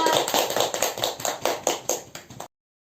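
Classroom applause for students, a burst of clapping that rises to a steady patter of many hands over a couple of seconds before cutting off abruptly.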